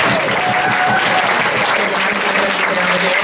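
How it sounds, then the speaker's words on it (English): Audience at a convention costume contest breaks into steady, dense applause, loud and continuous throughout with a faint voice or two mixed in the crowd. "Alright, round of applause."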